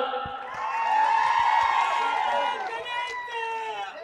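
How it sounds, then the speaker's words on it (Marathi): A crowd at a political rally in Jat claps and cheers together, a dense sustained roar of applause with whoops that swells and then eases off. "संजय राऊतसाठी एकदा टाळ्या वाजवा"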